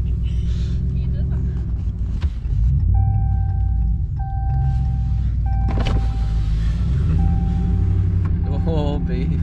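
A Ram 1500 pickup truck accelerates and slides on a snowy road, its engine rumbling steadily in a close interior perspective with talk and exclamations throughout.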